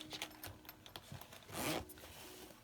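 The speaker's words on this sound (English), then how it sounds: "this is rugged, heavy duty zipper and teeth" A rugged heavy-duty bag zipper with large teeth is zipped: a few short ticking pulls and then one longer rasping zip, close and quiet with no talking.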